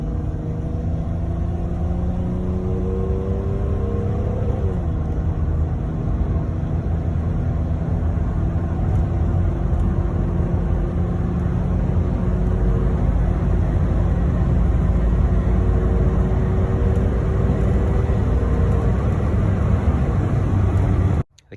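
A Pontiac Fiero engine held at high RPM, a loud steady droning roar with a brief dip in pitch partway through, running continuously before cutting off abruptly.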